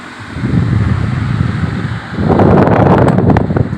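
An electric fan with its blades freshly cleaned runs on a higher speed setting, giving a steady close airy whoosh that swells louder and brighter partway through, with faint rattling ticks on top.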